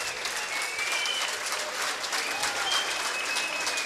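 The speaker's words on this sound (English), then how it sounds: "This crowd clapping in appreciation." Crowd at the Multnomah Athletic Club applauding during the 2009 World Handball Championships men's four-wall singles final, sustained even clapping with a few faint squeaks in the background.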